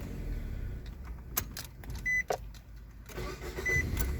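A 2009 Nissan Versa with a clutch safety switch fault is cranked on flat ground: keys jingle, then short bursts of starter and engine sound come in uneven spurts, close to the microphone, with no talk.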